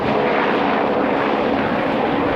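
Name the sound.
aircraft flying over a wildland fire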